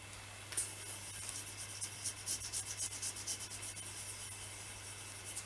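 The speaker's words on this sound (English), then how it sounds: "Just make sure you rub that gilt cream right into the grain" Gilt cream is rubbed into the grain of ebonised wood on a seed box, giving soft, faint, uneven scrubbing strokes in a quick rhythm over a low steady hum.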